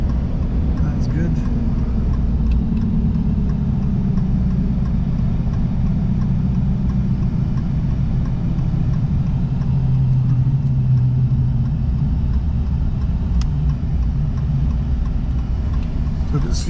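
A steady, heavy rumble of a vehicle pulling into a corn field where combining is underway, continuous and close throughout with no clear breaks.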